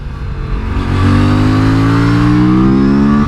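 Aprilia RS457 motorcycle accelerating hard in fourth gear, a loud, close engine note climbing steadily in pitch with a strong, continuous drone and no talk over it.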